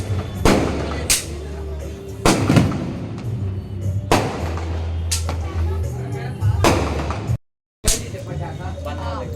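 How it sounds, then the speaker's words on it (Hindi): Several sharp firework bangs and crackling bursts go off at irregular intervals during an evening Chhath Puja family celebration, with people chattering in the background throughout. "फिर बाकी परिवार के सारे सदस्य आतिशबाजी करते हैं"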